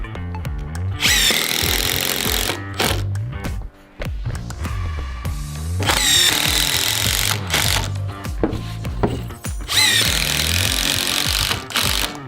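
A power drill drives plug screws into new deck boards during a backyard build, whirring in loud bursts of a few seconds each with brief pauses between, close up and with no talking.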